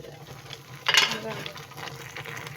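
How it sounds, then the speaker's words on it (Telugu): Prawns and bottle gourd cook in a pan, giving a soft steady sizzle with a brief louder burst of frying or stirring near the start, over a low background hum. "రొయ్యలు సొరకాయలు వేసి ఉడికించుకోవాలి."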